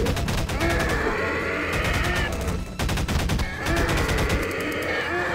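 Rapid automatic gunfire in the Gmod video game: dense, continuous bursts that pause briefly midway and then resume, loud and close.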